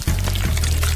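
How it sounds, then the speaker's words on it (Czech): Honey pours over berries in a bottle, a brief, close, continuous liquid pour with a low gurgling tone and no talk. "Bobule jenom zaliju medem."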